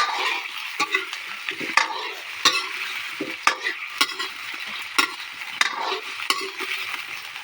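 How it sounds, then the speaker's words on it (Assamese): Potatoes and onions frying in a pan are stirred with a utensil, repeated scraping clicks at an irregular pace over a soft, steady sizzle. "এতিয়া পিঁয়াজখিনি নদহোঁতে মই ইয়াত আলুখিনি দি দিছোঁ আৰু লৰাই দিছোঁ ভালকৈ।"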